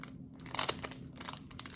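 Close, crisp crunching of a chocolate hazelnut wafer snack being bitten and chewed, a dense run of sharp cracks and crackles with no talk.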